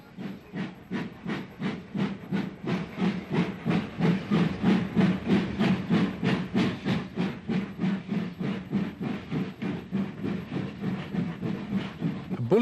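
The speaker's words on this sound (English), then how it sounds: "a BR Standard Class 5 passes through the station" BR Standard Class 5 steam locomotive running through a station at Folkestone Junction, a steady rhythm of strong exhaust chuffs and hissing steam with clattering wheels, loud and close throughout.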